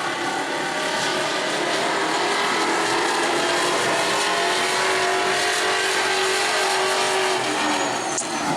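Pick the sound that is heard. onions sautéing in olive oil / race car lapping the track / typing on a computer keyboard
race car lapping the track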